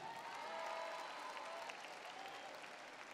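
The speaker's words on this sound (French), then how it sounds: "faites du bruit également pour Cécile, applaudissements s'il vous plaît" Audience applause filling a concert arena at a Miss Alsace pageant, steady dense clapping throughout with faint crowd noise, distant and even, no talking.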